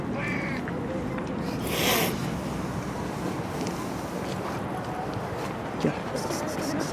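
A street cat outdoors gives a brief meow over steady background noise, with a person talking nearby.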